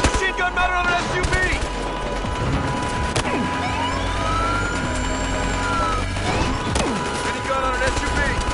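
Machine gun fire from a gun mounted on an SUV in Battlefield Hardline, loud sustained rattling bursts mixed with a wailing siren and vehicle noise.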